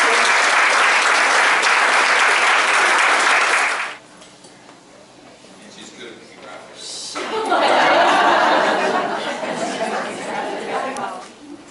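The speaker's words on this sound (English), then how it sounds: "Please give a round of applause for Rachel Loporchio." An audience at a scholarship luncheon bursts into loud sustained applause for nearly four seconds, then a quieter lull with a few voices, then a second swell of clapping and laughter.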